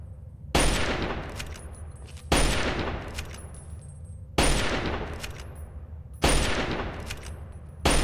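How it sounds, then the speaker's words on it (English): Gunfire in Fallout 3 at Point Lookout: four loud, evenly spaced single shots, each a sharp crack followed by a long decaying echo, about two seconds apart, with no talk. "I'm actually shooting that guy in the back now."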